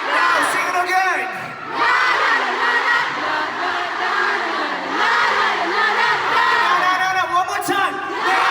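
Large concert crowd at a show in Dallas singing together and cheering, a loud continuous mass of voices with shifting sung pitches and shouts throughout.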